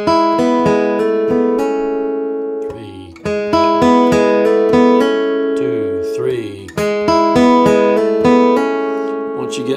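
An acoustic guitar plays a short phrase of the bluegrass tune Horseshoe Bend, with clear, ringing picked notes in a steady repeated pattern, played close and alone.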